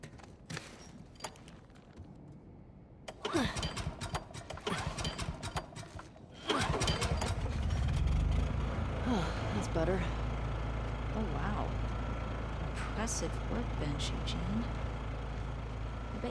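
In the video game The Last of Us Part II, a generator engine cranks and catches midway, then settles into a loud steady low hum, following earlier footsteps and clatter, with a voice talking.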